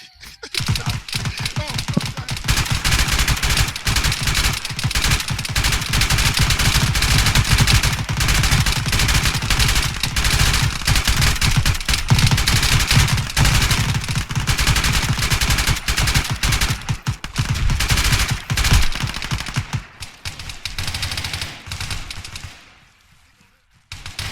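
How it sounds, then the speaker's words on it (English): Dense, rapid gunfire from a video game battle rattles almost continuously for about twenty seconds, loud and close, then drops away near the end. "Last man just took 12 bullets."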